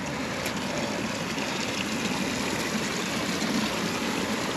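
Natural spring water at a holy well trickles and gurgles in a steady, continuous wash close by, with no voices.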